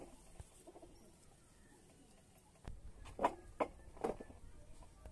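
A pigeon of the Madrasi breed coos a few times, soft and slightly distant, in short throaty bursts over a quiet background.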